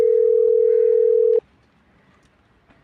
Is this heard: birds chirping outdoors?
no